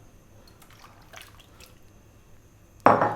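Potatoes dropped into a large pot of cold water on the stove, a sudden single loud splash near the end after quiet kitchen sounds.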